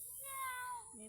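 A single drawn-out mimicked meow, nasal and wavering, voiced by a person close by over a steady background hiss.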